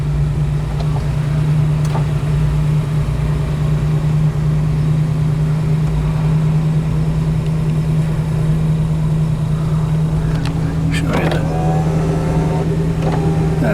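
A 1932 Ford 3 Window Coupe engine runs steadily close by, a loud continuous low idle hum with a slight rev and some faint clicks near the end.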